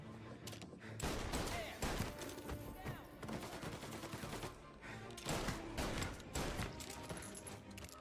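Rapid handgun gunfire and explosive bursts in a shooter video game, dense loud cracks and thuds repeating through the whole stretch amid chaotic in-game noise.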